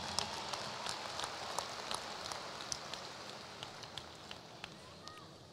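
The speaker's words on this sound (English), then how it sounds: "Give yourself a round of applause" Graduates at a university undergraduate commencement applauding, a faint, distant patter of many hands in a large venue, with occasional sharper claps standing out and the sound gradually thinning.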